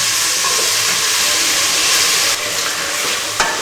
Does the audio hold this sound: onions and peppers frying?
yes